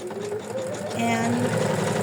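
An embroidery machine stitches an in-the-hoop felt heart appliqué with a steady, close whirring drone while a voice talks over it.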